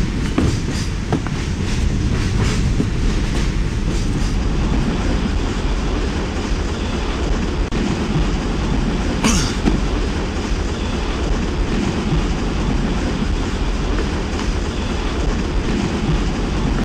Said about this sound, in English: Just listen to the noise of the train.